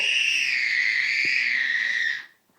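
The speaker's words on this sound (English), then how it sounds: "What is up with your screaming?" A baby screams in one long, loud, piercing cry that holds steady for about two seconds and then breaks off, followed by brief quiet.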